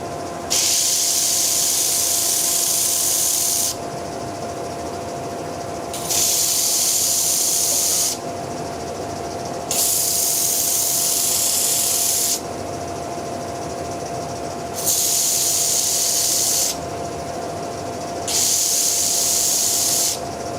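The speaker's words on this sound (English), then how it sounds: "I need to sand to that line, so that basically all the horrible bandsaw cut in the middle gone." Wood being sanded to remove bandsaw cut marks, a loud hissing power sander in five repeated bursts of a few seconds each, separated by lower running hum.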